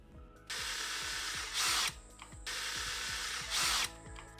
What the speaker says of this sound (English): Here I'm using my pocket hole jig to screw holes into the boards that I'm using for the base.